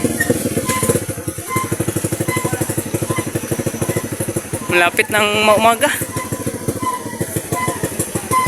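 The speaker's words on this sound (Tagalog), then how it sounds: "So, really dalawang motor kami." Two motorcycles riding home before dawn, a close, loud, rapid engine putter running steadily throughout, with a brief rise in revving midway and a person speaking over the noise.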